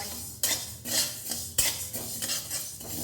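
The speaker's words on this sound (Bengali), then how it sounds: "এই নাড়াচাড়া করতে করতে এবার এগুলো নামিয়ে নেব" A spoon stirs roasted black and white mustard seeds and spices in a pan off the heat, producing repeated scraping strokes and metallic clatter at a steady rhythm, close and fairly loud, with no speech.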